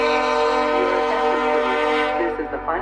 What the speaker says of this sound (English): Here she comes. Yeah, the horns fouled off.